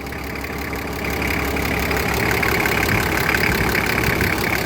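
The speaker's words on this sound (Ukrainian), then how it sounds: "Ай люблю, як такі мотори роблять" Toyota Land Cruiser with a simple six-cylinder engine, roughly 4 litres, running steadily: a loud, close, continuous rumbling drone that swells slightly partway through, with no voices.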